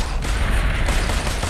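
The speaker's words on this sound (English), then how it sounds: "Nailing him with the pistol." Pistol gunfire in the VR battle royale game Population One, a dense, loud burst of rapid shots packed closely together with no talk over it.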